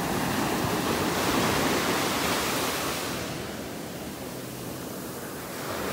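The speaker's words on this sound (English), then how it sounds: "So you see we have a little bigger waves." Steady, loud rushing surf of ocean waves rolling onto a North Naples, Florida beach in wind, a dense continuous wash of breaking water with no voices.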